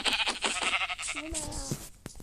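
A Minecraft sheep gives one wavering bleat in the middle, with other muffled sounds around it.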